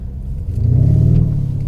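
A 2023 Lamborghini Urus accelerates hard in first gear, its engine swelling into a loud, close, deep roar that holds steady.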